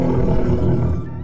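A long, loud, sustained roar from a creature in the Creatures of Sonaria video game, rough and full-bodied, holding steady for about a second before cutting off, with no voices over it.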